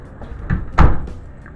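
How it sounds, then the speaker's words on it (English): A door shuts with a solid close thump followed by softer clicks of it being locked, near and loud, with no voices. "Locked door so nobody would come in."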